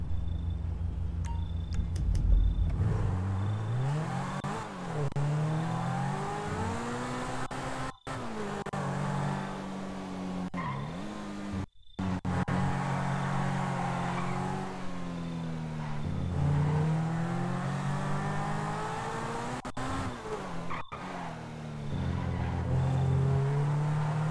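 A police car in the FiveM roleplay game drives along with its engine revving up and down repeatedly and shifting through gears, loud and close, with brief dropouts.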